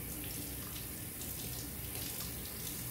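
Cauliflower being rinsed under a running kitchen faucet, a steady splashing stream of water over the florets, fairly quiet and close, with no talking.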